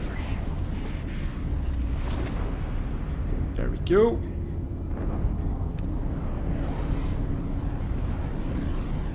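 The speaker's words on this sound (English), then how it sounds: "Keeping an eye on the explosions here." Spaceship explosions in a space battle in EVE Online, one sharp burst with a sweeping, falling tone over a steady low rumble, while someone talks throughout.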